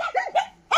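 A timid teddy dog at a stray dog rescue gives several quick, high yips and barks in close succession, near and fairly soft.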